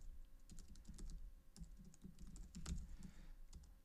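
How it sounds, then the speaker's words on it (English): Someone types on a computer keyboard, entering an admin account name: a quiet, steady run of close key clicks with uneven rhythm and a few heavier strokes, no voices. "I'm going to type in my enterprise admin in order to create it"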